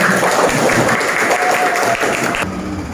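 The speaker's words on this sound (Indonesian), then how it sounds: "kita beri tepuk tangan untuk kelompok terakhir" A classroom of students claps for the last group after their presentation, a dense, loud burst of applause that holds steady and then thins out near the end.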